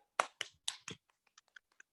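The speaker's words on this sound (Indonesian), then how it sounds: "kita berikan tepuk tangan kotak, persegi" A patterned square clap in a teacher training session: four crisp, evenly spaced claps, followed by faint scattered taps and rustling in a quiet room.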